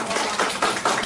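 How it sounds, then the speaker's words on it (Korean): Clapping from a church service congregation, a short close burst of quick uneven claps in rapid bursts, loud and dense, with no talking over it. "우리 박수로 축하!"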